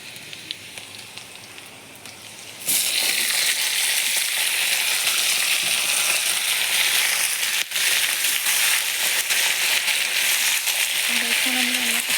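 Fish curry with beans, potato and tomato cooking in a pan, a loud steady sizzle bursting in after a quieter start and holding to the end, with faint voices in the background.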